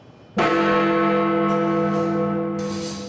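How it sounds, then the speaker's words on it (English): A single bell struck by a clockwork escapement mechanism, rung automatically at set intervals: one loud clang followed by a long, ringing sustain that slowly decays. "A device that automatically rings bells at set intervals throughout the day."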